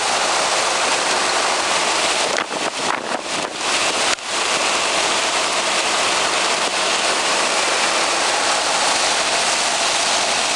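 Heavy rain pours onto a road in South Legazpi, a loud, steady hiss of downpour throughout, briefly broken by a few sharp interruptions partway through.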